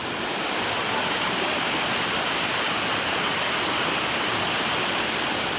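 A waterfall at Pdem Falls roars in a dense, unbroken hiss of rushing water, loud and steady throughout with no voices.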